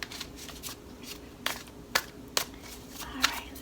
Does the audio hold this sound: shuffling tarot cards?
yes